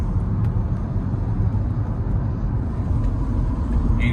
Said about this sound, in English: we're test driving a car